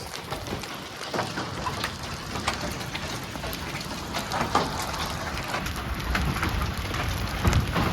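Hail pelts down outdoors during a hailstorm, a steady dense patter of hard impacts on surfaces with sharper individual hits scattered throughout, rain-like and continuous, no talk heard.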